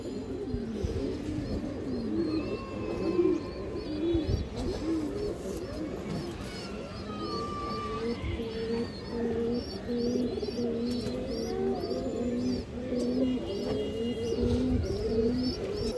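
Pigeons, including rubber-type Beji birds, coo repeatedly in a steady rolling chorus close by, with higher chirps and background noise mixed in and occasional human voice beneath.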